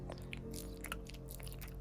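A kitten chews food in a small city apartment, giving steady close crunching and biting sounds over a low constant background hum.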